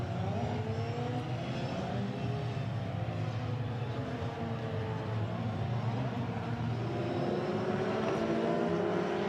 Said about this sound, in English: So the second formation lap then about to be completed.